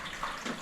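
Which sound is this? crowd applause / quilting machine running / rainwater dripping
rainwater dripping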